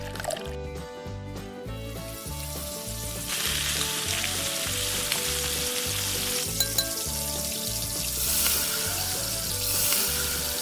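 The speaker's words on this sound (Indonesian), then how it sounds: "Goreng bawang putih." Garlic frying in oil gives a steady, loud sizzle and crackle that swells partway through and runs continuously under rhythmic background music.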